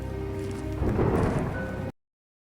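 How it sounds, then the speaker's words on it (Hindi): Heavy rain with rolling thunder used as a story sound effect: a dense downpour swells louder midway with a thunder rumble, then cuts abruptly to silence before two seconds. "बारिश और तेज हो गई।"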